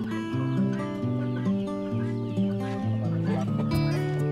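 Many chickens on a chicken farm clucking continuously and close by, overlapping squawks and calls forming a steady dense chorus.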